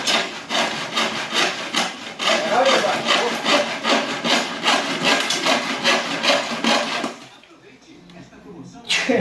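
A hand saw cuts through wood in a woodworking shop, with loud rhythmic rasping strokes back and forth for several seconds before a brief pause. People talk in between.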